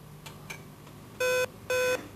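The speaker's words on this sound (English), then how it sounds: "You'll then get busy tone." A Ptarmigan army radio telephone system from 1989 gives a busy tone: two loud, steady electronic tone bursts of about a quarter second each, spaced evenly, after a few faint clicks.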